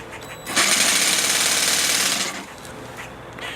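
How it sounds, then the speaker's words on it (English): A jigsaw cuts through bathroom tile with a loud, steady buzzing rasp that starts abruptly, runs for about two seconds and then drops to a quieter idle. "for cutting tile just using a jigsaw"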